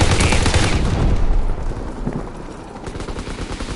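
Loud gunfire in Call of Duty: WWII, a heavy barrage of overlapping shots that is strongest in the first second and a half, then continues as a lighter, steady stream of rapid reports.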